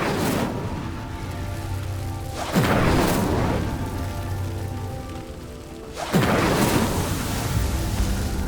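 Incendio fire spell cast in Hogwarts Legacy, two loud whooshing bursts of flame about three seconds apart over a steady rumbling, crackling bed.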